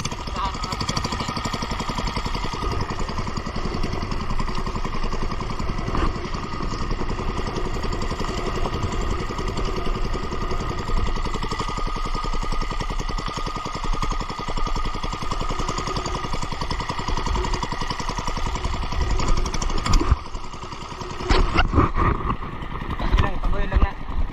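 A steady boat engine drones continuously at close range for the whole stretch, with wind or water noise over it from rough sea waves and a few sharper knocks near the end.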